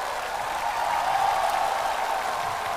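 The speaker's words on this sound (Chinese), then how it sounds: "掌声送给他们。" An audience applauds a band at the close of a live music show's road performance, a steady, moderately loud wash of hand claps lasting a few seconds with no voices over it.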